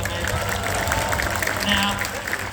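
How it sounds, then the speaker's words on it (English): An audience at a sea lion show at Six Flags Discovery Kingdom claps in steady, dense applause throughout, with a voice talking over the clapping. "Everyone give Koa a big round of applause"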